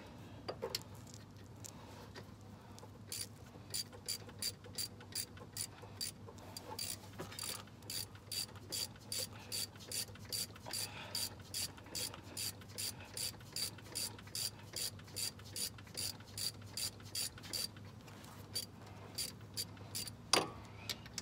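A ratchet wrench cranks down an engine belt tensioner in long runs of rapid, evenly spaced clicks, close and fairly loud over a low steady hum, with a short pause near the start and a heavier clunk at the end.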